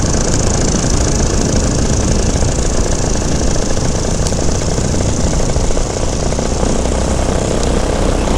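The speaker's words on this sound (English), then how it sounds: "Let's see if they got the engine running yet." A small propeller airplane's engine runs steadily on the ground with no break, a loud, continuous drone mixed with wind across the microphone, in the Smoky Mountains.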